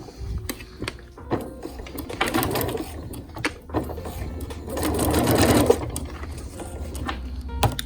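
Sewing machine running a tacking stitch along a skirt, a steady mechanical whir and clatter with rhythmic needle ticks that swells louder midway, close up and with no talking.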